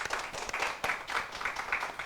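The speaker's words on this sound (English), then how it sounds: "Round of applause, ladies" An audience at a women's inclusion event applauds a bank managing director, giving a moderate, continuous patter of many hands clapping with slight surges throughout.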